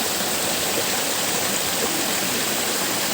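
A waterfall roars as a constant, dense hiss of rushing water, close and loud, with no other sounds.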